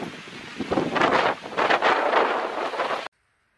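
Strong wind buffets the microphone on a huge grassy area near a Roan Highlands mountaintop in Tennessee at about 6,200 ft, a loud roaring rush with gusts that cuts off abruptly.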